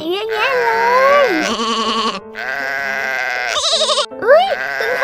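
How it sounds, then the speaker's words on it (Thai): A lamb bleats several times in loud, wavering cries with short pauses between them, close by and clear. "ตรงนั้นมีลูกแกะด้วยค่ะสีขาวน่ารักมากๆเลยค่ะ"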